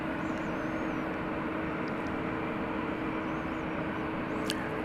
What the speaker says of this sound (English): This is the flight to Auckland.